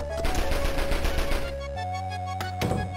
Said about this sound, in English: Machine gun's dope